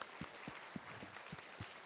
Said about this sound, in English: Ladies and gentlemen, let's give them a warm round of applause here as we conclude the first part of panel one.